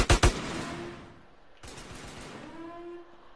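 Gunfire in GTA San Andreas: two sharp, loud shots in quick succession open, then a single bang follows after a pause, each trailing off into a ringing echo.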